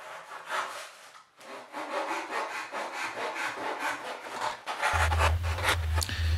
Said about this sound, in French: Pour ça, j'utilise une scie japonaise.